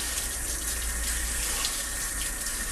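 Tap water runs steadily into a sink over imitation crab being rinsed, a soft continuous splash and hiss at moderate distance with no talking.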